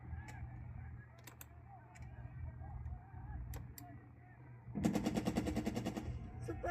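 Suppressing gunfire in the war game Burden of Command: scattered sharp shots early, then a dense rapid burst of machine-gun fire in the final seconds over a low rumbling background.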